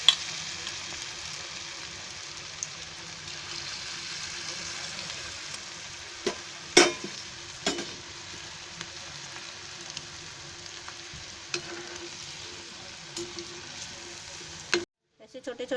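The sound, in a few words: small cabbage Manchurian fritters deep frying in oil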